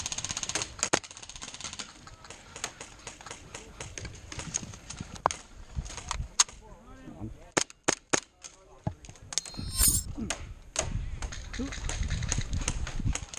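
Bursts of MP9 submachine gun fire in a video game round, short sharp volleys spaced out among clicks and footsteps, with a heavier rumbling stretch near the end.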